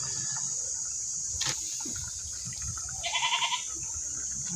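A goat bleats briefly in a short wavering burst, moderately near, over a background hiss and faint clatter.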